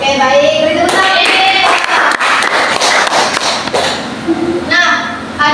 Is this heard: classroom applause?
yes